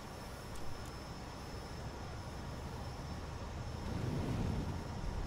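Steady broadband roar of twin F-14B jet engines pushed to full afterburner for takeoff in DCS, a constant loud rushing drone that swells slightly toward the end, with no talk.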